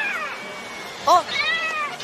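A man imitates a cat's meow with a short series of convincing, drawn-out mews. Another voice briefly exclaims in surprise at the middle of the clip, between the meows.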